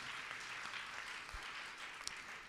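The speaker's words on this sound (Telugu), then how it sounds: "గట్టిగా చప్పట్లు కొట్టి ప్రభువుని గణపరుస్తాం" A church congregation claps loudly together, a dense, steady wash of applause that fills the whole clip with no voices standing out.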